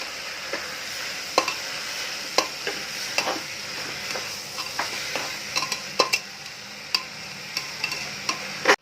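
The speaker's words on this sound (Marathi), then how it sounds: "आता थोडीशी मेहनत घेऊन ह्याला चांगलं परतून घेऊया" Khichdi being stirred and sautéed in a pan: a steady low sizzle runs throughout, broken by frequent sharp scrapes and clicks of a spoon against the pan, close and fairly quiet, with no talking.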